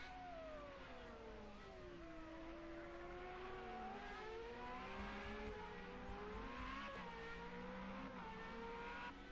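Race car engine in Project Cars 2, a Formula 1 league race at Portimao, droning steadily with shifting pitch as the car is pushed hard, continuous throughout with no talk over it.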